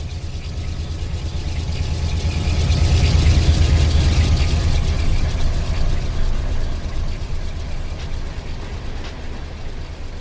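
A freight train hauled by locomotives rolls past in the Run 8 simulator, a loud, steady low diesel drone and rail rumble that builds toward the middle and slowly eases away.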